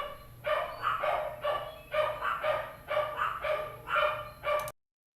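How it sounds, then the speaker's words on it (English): Dogs barking in a steady rhythm, about eight barks evenly spaced, moderately close, with no voices. "Yeah, they're definitely barking."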